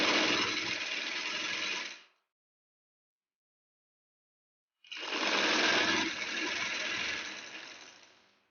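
An electric sewing machine runs fast as it stitches a trouser hem, buzzing steadily in two bursts with a short silent pause between them.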